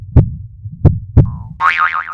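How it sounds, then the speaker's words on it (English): A cartoon-style heartbeat effect as if heard through a doctor's stethoscope: three soft, thumping beats, followed by a short tone and a wobbling, warbling boing. "A stethoscope helps me hear your heartbeat."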